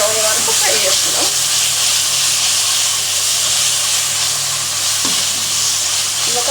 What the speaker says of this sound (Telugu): పేస్ట్ వేసుకొని కొంచెం ఫ్రై చేసుకున్నాం. పచ్చివాసన పోయే వరకు ఫ్రై చేసుకున్నాం.